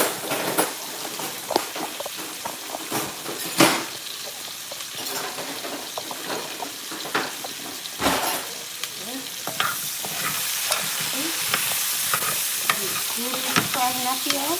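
Onions fry in a pot with fish for a stew, a steady crackling sizzle broken by scraping and clinking stirring strokes, close and fairly loud with no talking.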